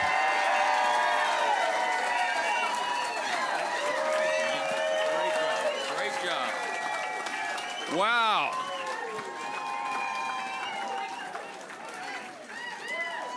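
A crowd cheers and applauds at the opening of a congressional candidate's campaign office in Auburn, Maine, with voices calling out over steady clapping, a brief shout rising midway and someone speaking amid the noise.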